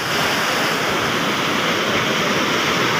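River water in rainy-season flood rushes loudly and continuously, a dense close roar with no pauses and no voices.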